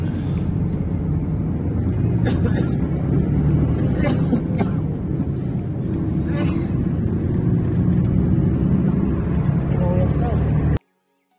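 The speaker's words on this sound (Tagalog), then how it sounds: "Nakasakay na ako ng bus dito" Steady low engine rumble and road noise inside a bus leaving Tumawini, Isabela, continuous and fairly loud throughout, with a few faint knocks and a voice talking at times over it.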